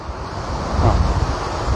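Water rushes through the opened gates of the overflowing Machchhu dam at Morbi, where thirty gates are open, making a steady, loud, broad roar with no speech.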